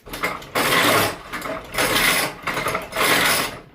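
Loud mechanical whirring in three bursts, each lasting about a second, with short pauses between, as the motor of a large RC mech's feet drives them up and down.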